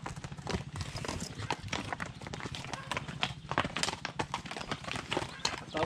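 Hooves of an older draft horse clop steadily on hard ground in Lviv region, Ukraine, while people talk nearby, the steps blending with background chatter.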